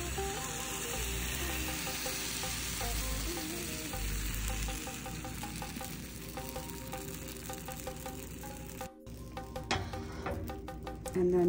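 Appam batter sizzles steadily in a hot appam pan, a dense, close frying hiss that runs the whole time with small crackles, dips briefly near the end, then resumes.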